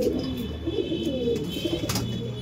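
Pigeons coo in low, rolling murmurs, close by and continuous, with a couple of soft rustles in between.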